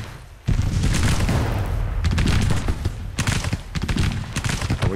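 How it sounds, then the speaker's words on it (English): Civil War cannons and rifle volleys in the strategy game Grand Tactician: The Civil War fire in a loud, continuous barrage of booms and crackling bursts, with several sharp peaks standing out from the roar. "Are we firing our cannons?"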